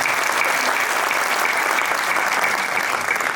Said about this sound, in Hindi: मैं चाहता हूं कि उनके सम्मान में पूरा सदन जोरदार तालियों से।